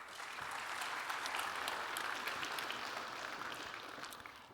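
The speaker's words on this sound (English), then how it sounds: "So a big applause to indeed Nicole" Audience at an official opening event applauding, a fairly faint, distant-sounding wash of steady clapping from a large crowd that holds then tapers off near the end.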